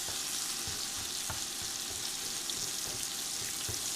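Food sizzles steadily in a cast iron skillet on an induction burner set to 400, a continuous close crackle with small pops and no talking.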